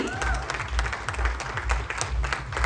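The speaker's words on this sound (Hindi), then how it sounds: "एक बार जरा जोरदार तालियां हो जाए for that." Applause from the crowd at an electric vehicle launch for the Lectrix Enduro scooter rings out moderately, mixed with a steady low thumping beat of event music underneath.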